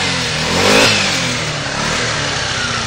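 A Kymco Grand Dink scooter engine runs close by, revving up briefly then settling to a steady running note with a light clatter, no talk.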